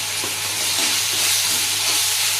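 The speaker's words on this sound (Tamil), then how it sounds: "இப்போ நம்ம தேவையான அளவு இஞ்சி பூண்டு போட்டு வதக்கிக்கிறோம்." Ginger garlic paste frying among browned onions for a chicken gravy, a steady loud sizzle with a constant hiss and faint stirring scrapes throughout, no voices.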